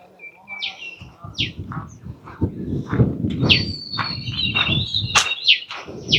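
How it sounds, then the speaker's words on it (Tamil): Small birds chirp and tweet in green scrubland around an abandoned army camp in Kilinochchi, scattered sharp calls mixed with insect trilling and a busy rustling background, fairly close and loud. "எல்லாம் குருவி சத்தங்கள் எல்லாம் நல்லா கேட்குது."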